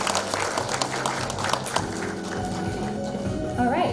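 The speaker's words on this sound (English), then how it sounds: "please give a big round of applause to all of our guests" At an international water forum, the audience gives the guests a round of applause: a thick, rapid patter of clapping for about two seconds that fades as a musical tone rises and continues alone.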